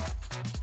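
A small dog gives a few quick, close yappy barks and whimpering yips in rapid succession, with no talk over them.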